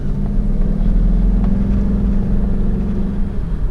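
A 2009 Jaguar XKR supercharged coupe drives along a road, its low engine hum and road rumble steady and continuous from inside the car, with no talking.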